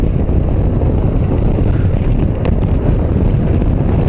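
Heavy wind turbulence roars steadily around a rider on an Aveta Nova 250 maxi scooter, a dense, buffeting rush that stays loud and constant throughout with no voices.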